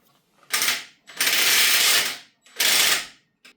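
A ratchet wrench tightens fasteners while a Tesla Model 3 seat is being swapped for a Highland Performance seat in a home garage. Three dense bursts of rapid clicking sound up close, separated by short pauses, with no talk.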